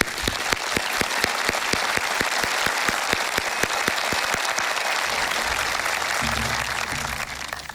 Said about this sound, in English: I want us to all just applaud the faculty, family, and loved ones of this amazing graduating class